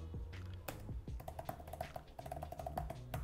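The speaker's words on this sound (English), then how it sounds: "But when you stop talking and just type like this, like it just stops listening to you." Typing on an iPad keyboard: a run of quiet, irregular clicks and taps, close and soft, with no one speaking.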